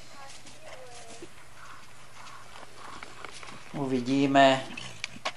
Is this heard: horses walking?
yes